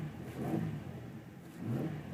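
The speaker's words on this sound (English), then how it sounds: "You can see that the engine shakes the chassis when you're revving it a little bit." A 2011 Ford Ranger's 4-liter V6 is revved twice from idle, with two swelling low engine roars separated by a brief dip, heard up close.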